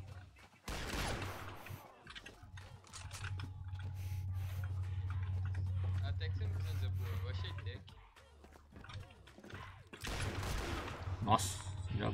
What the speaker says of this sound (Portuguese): Já escutei o primeiro tiro aqui.